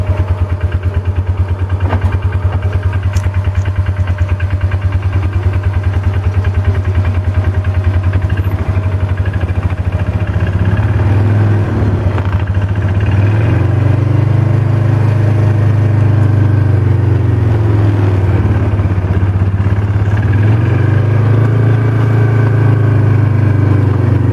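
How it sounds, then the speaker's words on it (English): A quad ATV towing a trailer rumbles steadily along a mucky, muddy, bumpy road, its engine droning loud and close with uneven surges throughout. "we have to take the quad and the trailer and drive across the mucky, muddy, bumpy road"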